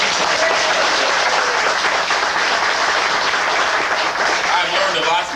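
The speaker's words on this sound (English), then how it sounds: "Give them one more round of applause." A crowd applauds tour guides on a trip in Egypt. Dense, loud clapping continues without a break throughout, with some voices mixed in.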